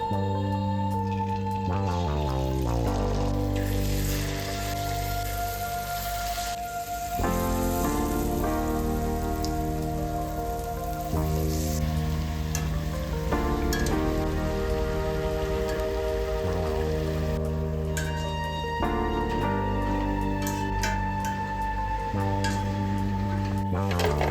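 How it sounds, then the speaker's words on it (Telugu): Punugulu batter fries in hot oil with a steady, rain-like crackling sizzle that runs the whole time beneath louder background music, with no talk. "నూనె వేడైపోయింది మనం పునుగులు వేసుకుందాం రండి"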